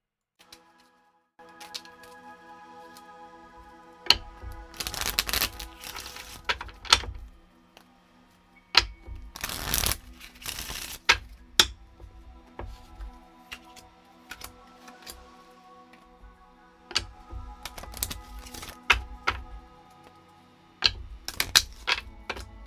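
Oracle cards being shuffled by hand, giving crisp bursts of riffling and tapping with pauses between, close up over soft steady background music.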